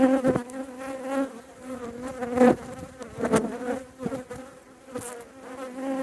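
Honeybees buzzing close up during a beehive inspection, a continuous wavering drone with several bees passing near and rising and falling in loudness, with no talking.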